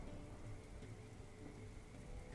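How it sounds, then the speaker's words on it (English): Steady rain falls continuously as ambience for a tabletop role-playing session, a dense, even wash of drops with a low rumble beneath, unbroken and with no talk. "Next morning, what do you know? Still raining."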